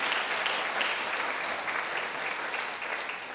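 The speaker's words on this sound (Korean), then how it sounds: "더 큰 기쁨 박수로 축하해 주시기 바랍니다" Sustained applause from a church congregation at a Christmas carol service, dense steady clapping from a large crowd throughout, fairly close and even in level.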